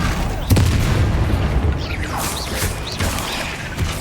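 Booming spell blasts of Bombarda in Hogwarts Legacy, played on hard difficulty: a heavy impact near the start, then lighter explosive bursts later over a constant rumbling game ambience.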